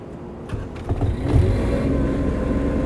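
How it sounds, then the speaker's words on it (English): A Lincoln Electric Dual Maverick 450 diesel engine-driven welder runs with a steady, fairly quiet low engine hum, with a few clicks and a brief rise in level early on. "it's very quiet compared to other diesel engine driven welders"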